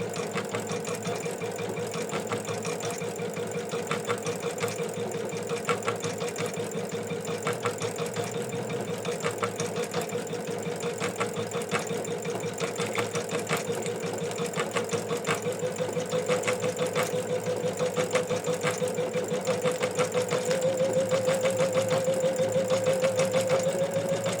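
An embroidery machine stitches the motif detail along the sides of an in-the-hoop ornament, a steady fast mechanical whir with rapid needle ticking that runs continuously, close and even, rising slightly in pitch near the end.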